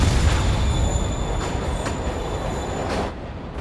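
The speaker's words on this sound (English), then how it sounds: "Train moving." Rumbling train with squealing wheels and metallic rail noise in the Marvel's Spider-Man video game, loud and close, fading out sharply at the end.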